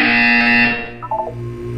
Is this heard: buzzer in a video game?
yes